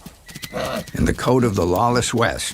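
A wild stallion's hooves pound loudly among neighs and whinnies while someone narrates over them.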